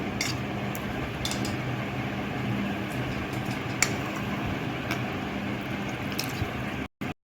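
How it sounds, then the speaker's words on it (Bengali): Pre-soaked flattened rice (chira) goes into a chilled milk dessert, giving soft, wet squishing and a few small drips over a steady background hum. "আগে থেকে ভিজিয়ে রাখা চিড়েটা দিয়ে দিচ্ছি"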